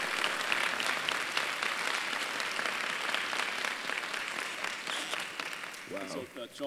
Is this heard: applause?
yes